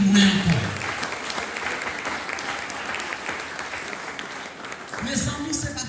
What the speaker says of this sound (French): Je souhaite nous retourner battre un applaudissement